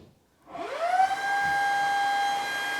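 A vacuum cleaner motor whirs up from silence on its first speed setting, its pitch rising before settling into a steady, fairly quiet whine with a high tonal hum, heard alone.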